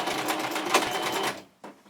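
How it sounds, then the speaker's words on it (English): A sewing machine stitches two fabric pieces of a beret together into a full circle, a rapid mechanical whirring run that stops abruptly, followed by a short clack. "the first thing I'm going to be doing is sewing the 2 pieces of the circle back together"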